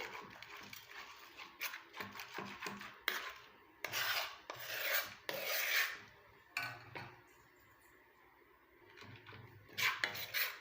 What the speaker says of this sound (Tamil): இந்த மாதிரி ஒரு ஸ்பூன் மாதிரி கரண்டி வச்சு நல்லா வந்து இந்த மாதிரி கலந்து விட்டுருங்க